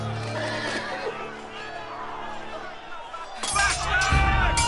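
Horse neighing in a Game of Thrones video game, a loud whinny over crowd murmur and clinking, followed by a sudden burst of clattering action noise.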